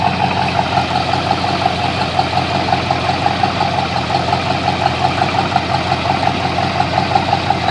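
A rebuilt 1983 Ford 351 Cleveland V8 idles steadily, close and loud, with an even low rumble and a regular pulsing beat, no voices over it.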